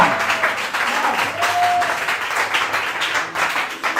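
A church congregation applauds during a worship service, steady crowded clapping filling several seconds, with a sustained tone and faint voices beneath.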